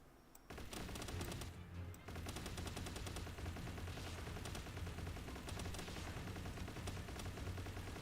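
Rapid gunfire from Palworld, a dense run of repeated shots fired at a test target, loud and continuous with only brief gaps.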